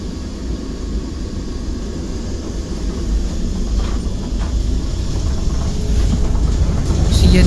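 A metro train in The Hague runs along its rails, a loud low rumble that builds steadily in strength over several seconds with faint clatter on top, no talk heard.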